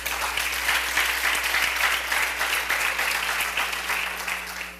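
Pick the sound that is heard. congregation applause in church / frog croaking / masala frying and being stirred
congregation applause in church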